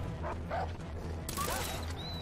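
A dog in the video game Far Cry 3 gives a few short, sharp barks at moderate distance over low game ambience, with brief higher-pitched yips in between.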